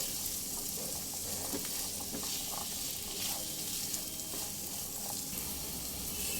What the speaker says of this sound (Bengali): এক থেকে দেড় মিনিট আবার একবার ভাজা ভাজা হতে দেব